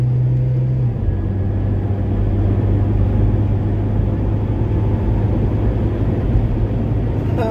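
Austin Ambassador car driven on the road with its engine droning steadily and loud throughout, a low rumbling hum that lifts slightly in pitch early on as it accelerates.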